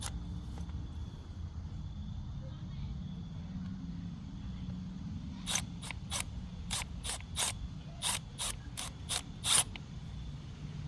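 Clamps on a Kawasaki Eliminator 250, soaked with spray lubricant, are worked loose with a ratchet, giving a quick run of about a dozen sharp clicks over a low steady hum, close and moderately loud.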